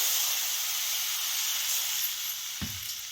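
Ridge gourd vegetable sautéing in a pan, giving a steady, even hiss that runs throughout, with one short knock near the end.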